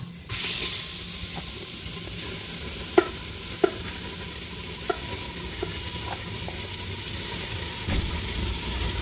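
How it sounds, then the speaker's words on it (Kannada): Raisins and cashews frying in ghee for carrot halwa, a continuous hissing sizzle with a few sharp spoon clinks against the pan spaced across the stretch, no talking. "ಇವಾಗ ದ್ರಾಕ್ಷಿ ಗೋಡಂಬಿ ಹುರ್ಕೊಂಡು ಕ್ಯಾರೆಟ್ ಹಲ್ವಾ ಮಾಡಕ್ಕೆ ರೆಡಿ ಮಾಡ್ತಾ ಇದೀವಿ"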